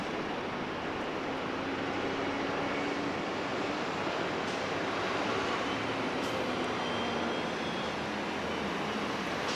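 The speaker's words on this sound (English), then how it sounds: "That's the aircraft in the foreground." A jet airliner rumbles near runway 24 Left at LAX. The steady, broad roar holds at an even level from start to finish, with no other sounds above it.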